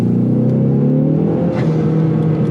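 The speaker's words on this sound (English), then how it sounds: "Second gear. Foot to the floor. Let go. Full throttle." A Ford Mustang with a 10R80 automatic transmission launching in second gear at full throttle with bolt-on launch control: a loud, steady, close engine drone that strains and rises slightly.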